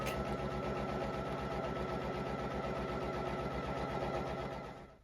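Poolin EOC06 embroidery machine sewing an applique placement stitch on very thin fabric with extra stabilizer, a steady fast mechanical chatter held at constant loudness, close, fading slightly at the end.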